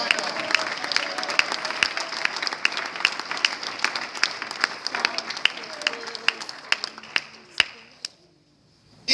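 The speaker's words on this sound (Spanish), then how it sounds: "¿Cuántos seguimos aplaudiendo el nombre del Señor en esta mañana?" Church congregation applauding during a Spanish-language sermon, steady dense clapping with scattered sharper claps that thins out and fades to near silence at the end.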